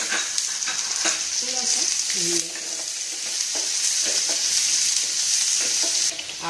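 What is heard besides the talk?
green chili and chopped onion frying in a pan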